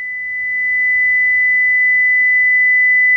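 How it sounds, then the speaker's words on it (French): A steady, high-pitched 2000 Hz sine tone from a generator holds unchanged throughout, swelling slightly in the first second and then staying constant and fairly loud. "Donc là, on entend un son aigu à 2000 Hz"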